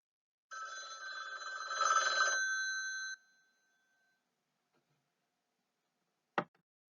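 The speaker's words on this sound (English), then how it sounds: "It's a telephone." A telephone rings with a trilling electronic bell for a few seconds, stops, then a brief click follows after a pause.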